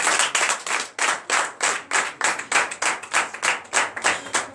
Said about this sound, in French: Donc je vous demande d'applaudir encore très fort.